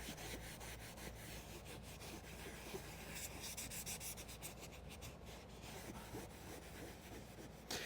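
A scrubber misted with Gyeon Q2M Natural Leather Cleaner Mild works over a natural leather seat in a Porsche, giving a continuous close, soft rubbing and brushing that stays quiet and even with no talk.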